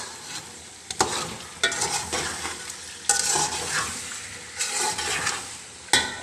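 Green chili and other ingredients stir-fried in a hot pan with salt, a bright hissing sizzle punctuated by sharp scraping strokes of a spatula at irregular intervals, close and with no talking.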